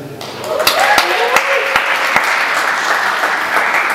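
Young audience members at a conference session burst into clapping and cheering. It swells quickly after a brief lead-in, with several sharp claps standing out near the start before settling into sustained, loud applause.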